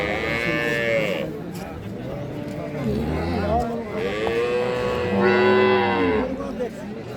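Friesian and crossbred dairy cows with calves at a livestock market, several loud nearby moos in succession, with people talking in the background.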